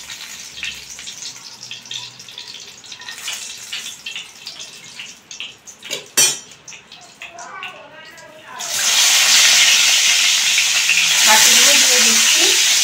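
Eggplant slices drop into hot oil and start a loud, steady frying sizzle that fills the last few seconds, after quieter kitchen clatter and someone speaking.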